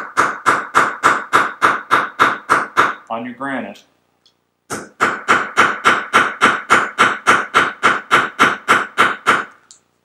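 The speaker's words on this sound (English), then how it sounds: "what you can do is take a hammer" A hammer lightly taps round rivets flat on a granite slab while a leather magnetic wallet is being finished. Two runs of quick, even, close taps are separated by a short stretch of speech.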